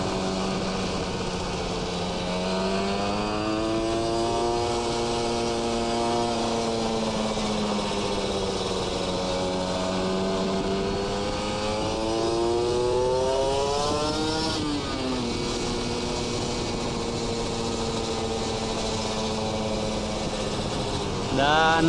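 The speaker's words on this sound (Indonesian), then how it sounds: "untuk pemakaian knalpot R9 di apa namanya di motor Ninja RR ini memang nggak ribet settingannya" A Kawasaki Ninja RR motorcycle fitted with an R9 racing exhaust revs repeatedly, its high, buzzy two-stroke note rising and falling in long sweeps while the bike sits in place, steady and fairly close.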